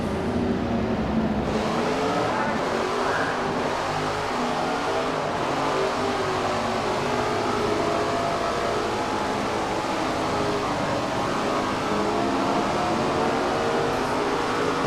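Race cars from SRX: The Game roaring continuously, a dense engine drone of several cars running together at speed, steady and loud throughout with no pauses.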